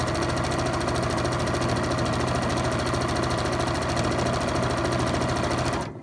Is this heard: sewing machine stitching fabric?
yes